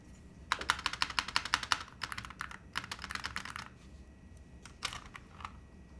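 Typing on a Holy60 mechanical keyboard fitted with Awekeys metal keycaps, bursts of quick clacky keystrokes with a few heavier spacebar hits, close and fairly quiet, with no talking.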